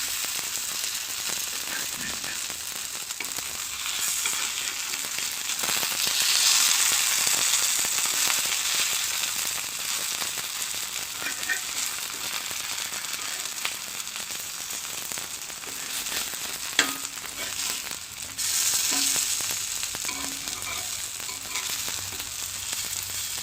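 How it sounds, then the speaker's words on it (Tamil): Vanjiram fish fried on a dosa griddle over low heat, a steady crackling sizzle that swells and eases, with one sharp tap of a utensil partway through and no talking. "வெறும் தோசைக்கல்லில் போட்டுட்டு அடுப்பை சிம்மில் வச்சு வேக வைங்க"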